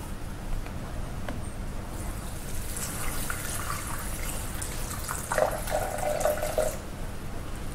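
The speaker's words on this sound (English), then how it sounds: "we're going to pop in next our water. So we're going for 250 grams of water" Water pours from a tap into a mixing bowl while making chocolate brownie batter, a soft trickle and splash that swells near the end before stopping, with no talking.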